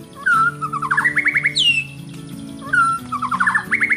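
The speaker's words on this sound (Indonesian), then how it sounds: "suara murai batu bahkan lebih lantang dan nyaring daripada kicauan burung" A white-rumped shama (murai batu) sings loud, ringing phrases of clear whistles and rapid repeated notes, with one sharp downward-swept call in the middle, close and alone over a low steady background hum.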